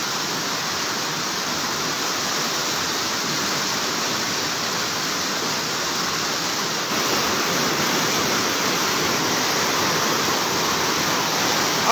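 Floodwater rushes through Bonbon, Libon, Albay in a dense, continuous roar like a torrent, loud and unbroken, growing slightly stronger toward the end with no voices heard.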